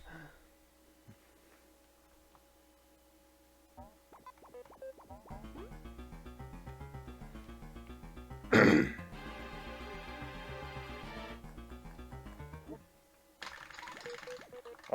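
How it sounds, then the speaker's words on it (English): A single loud cough bursts out close to the microphone, sharp and brief, set against steady buzzing game sounds and music. "Also, I meant to mute for that cough."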